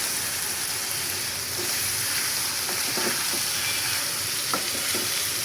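Taro stolons go into a pan of dried loitta fish, onion, green chilli and turmeric that is already frying, with a steady loud sizzle and a few soft stirring knocks on top.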